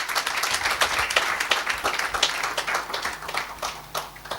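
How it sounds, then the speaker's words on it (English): An audience at a Kenyan law conference applauds the Law Society of Kenya president with dense, sustained clapping that holds steady and loud for several seconds, then thins slightly toward the end. "Please give her a round of applause."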